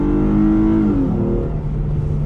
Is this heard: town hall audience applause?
no